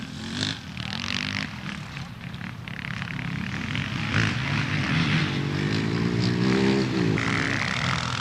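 A big four-stroke Husky 610 enduro motorcycle races at the International Six Day Enduro in Australia, its engine droning loud and steady, rising slightly in pitch.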